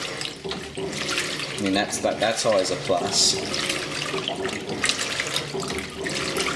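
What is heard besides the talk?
2002 Kelvinator K605 washing machine agitating at full speed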